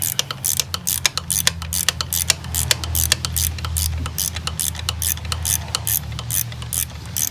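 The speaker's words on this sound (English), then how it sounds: "this has a star bolt right here that is a T30. Let's see if we can make that loose." A ratchet wrench clicks steadily while loosening a T30 star bolt on the fuel pressure regulator of a 1999 Pontiac Grand Am 2.4L, rapid and loud, close up over a low engine-bay hum.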